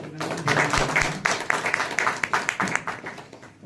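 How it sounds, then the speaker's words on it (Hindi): A seated audience at a formal speech gathering claps in a brief burst of applause, a patter of overlapping hand claps that thins into separate claps toward the end, fairly soft. "मैं सम्मिलित रूप से आप सभी के लिए एक जोरदार ताली चाहता हूँ"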